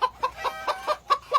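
Chickens cluck nearby in quick, uneven bursts, several short clucks in a row with brief quiet gaps between them.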